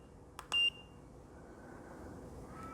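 Electronic timer beeps from a hat heat press: one short faint chirp followed by a louder, sustained tone lasting about a fifth of a second, then steady low background hum with no talking.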